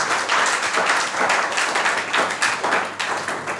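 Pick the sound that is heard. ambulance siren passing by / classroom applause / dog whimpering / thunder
classroom applause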